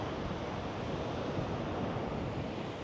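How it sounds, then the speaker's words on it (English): Strong wind roars steadily over ocean surf while a small drone flies above the water, a dense, constant rush of wind noise buffeting the microphone, with no voices. "Yeah, you can feel that wind."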